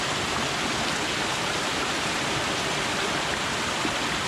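Sheer falls pour into the sea at their base, heard from a dinghy close by as a loud, steady, broadband roar of falling water that continues without a break.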